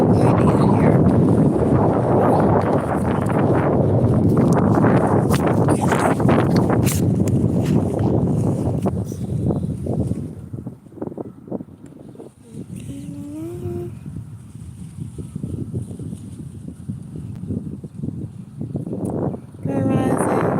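Wind gusting across the microphone outdoors, a loud broadband rush that dominates the first ten seconds, then eases into a lower, unsteady blustering with a few faint tonal squeaks.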